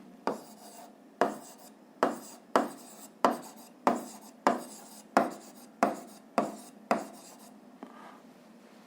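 A pen writes a physics formula for potential energy, producing a series of about ten short scratchy strokes at a fairly regular pace, close and clear, with quiet pauses between and no speech.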